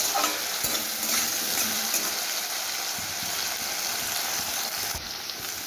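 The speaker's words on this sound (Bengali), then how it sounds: "আলুটা আমার লাল লাল করে ভাজা হয়ে গেছে" Potatoes frying in hot oil, cooked until reddish-brown alongside slit green chillies, give a steady close sizzle with occasional soft stirring clicks and no talk.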